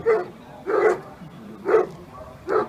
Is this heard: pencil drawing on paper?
no